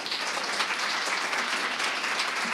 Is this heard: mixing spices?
no